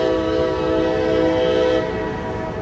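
A local freight train sounds a loud, sustained chord-like horn at close range, one long blast over the rumble of rail cars, with no voices.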